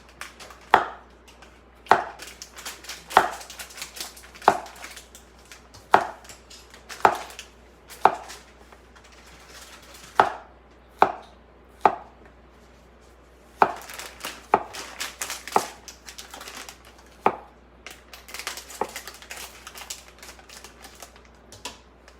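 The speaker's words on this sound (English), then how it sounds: "I just love the sound of a knife on a cutting board." A knife chops zucchini on a cutting board in steady, sharp clacks about once a second. The strikes are close and crisp over a quiet kitchen background with no talking.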